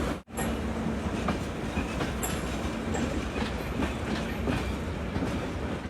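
A crowded super express passenger train in Bihar, India, runs with a loud continuous rumble and rhythmic clickety-clack of wheels on rail joints, heard close from on board.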